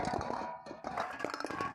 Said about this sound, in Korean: 물체끼리 부딪히는 둔탁한 소리에는